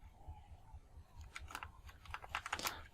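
Fingers typing a web address on a computer keyboard, a quiet burst of soft key clicks that quickens into several rapid taps near the end, close up and alone.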